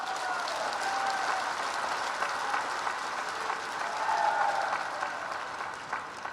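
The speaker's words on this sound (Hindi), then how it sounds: "मैं चाहूंगा एक बार इस प्यार के लिए खड़े होकर ताली बजाएं, अभिवादन करें माननीय ठाकुर राजनाथ सिंह जी क" A large crowd at an outdoor Haryana political rally applauds in a sustained, dense wash of clapping that swells slightly midway and continues throughout, with faint voices underneath.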